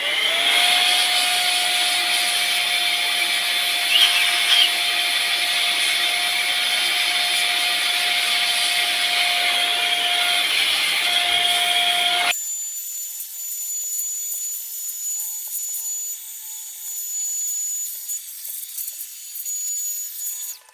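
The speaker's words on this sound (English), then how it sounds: "the board is sprayed with alcohol and then cleaned with an air blower" An air blower cleans an alcohol-sprayed circuit board from a 1969 Mivar Trafem B radio, a loud continuous rushing hiss that stops abruptly partway through, leaving a quieter hum with a steady tone.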